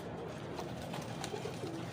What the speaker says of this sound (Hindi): ये न्यूरों वाले कबूतर हैं